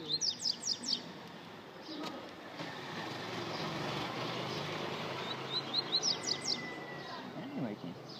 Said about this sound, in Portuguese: Eu vou trocar o nome desse passarinho